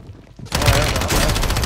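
Video game gunfire, sudden and loud after a quiet moment, a dense rapid burst of shots carrying on to the end.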